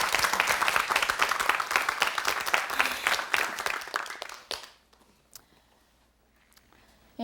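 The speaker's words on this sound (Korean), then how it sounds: "여러분 박수로 이야기 청해 듣겠습니다." A studio audience at a Korean KBS storytelling comedy show bursts into loud, dense applause that carries on for about four seconds, then fades quickly into near silence.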